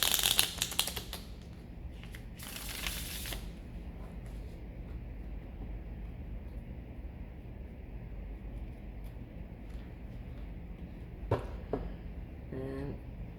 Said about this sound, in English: shuffle the cards